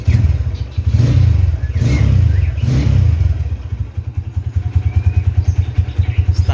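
A motorcycle engine revs up in three strong surges, then settles into a steady, throbbing idle with a rhythmic mechanical chug, loud and close.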